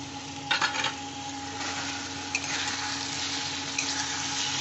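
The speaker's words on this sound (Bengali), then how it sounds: "আলুটা এবার আমি চিংড়ি মাছগুলোও দিয়ে দিচ্ছি তাহলে একসাথে সব কষা হয়ে যাবে" Shrimp and potatoes sautéing together in a pan for a prawn and taro-leaf dish, with a steady broadband sizzle and a few brief scraping stir sounds, close and alone.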